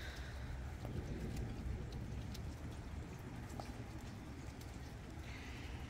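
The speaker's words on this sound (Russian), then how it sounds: "дождь с громом и молниями." Steady rain during a spring thunderstorm in Colorado, a dense, even patter of drops that stays at the same level throughout with no distinct thunderclap standing out.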